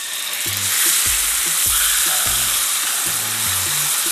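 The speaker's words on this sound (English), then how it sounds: "We're essentially frying the steaks in this butter." Flat iron steaks fry in Kerrygold butter in a cast iron skillet on high heat, giving a loud, steady sizzle broken by a few clunks of the pan and utensils.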